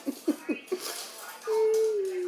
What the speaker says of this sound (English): Get the little pup to go outside.